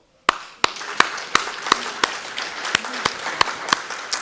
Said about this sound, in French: Est-ce que, mes amis, on peut applaudir nos frères et sœurs qui nous écoutent chaleureusement